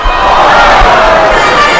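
A large Thursday-night ballpark crowd for Game 2 of a York Revolution versus Southern Maryland Blue Crabs baseball game roars and cheers loudly and continuously, a dense, sustained wall of voices with no pauses.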